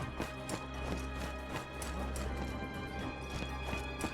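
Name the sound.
horse galloping, boss Lü Bu in video game Wo Long: Fallen Dynasty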